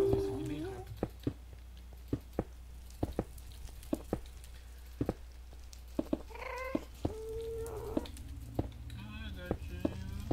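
A cat meows repeatedly in the video game Minecraft, short mews scattered among frequent sharp clicks and game effects, with someone talking over much of it.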